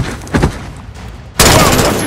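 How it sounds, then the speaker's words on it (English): Gunfire in the Call of Duty: Modern Warfare campaign, a couple of sharp shots early followed by a loud, sustained burst of rapid fire that fills the rest of the moment. "The gunshots, of course."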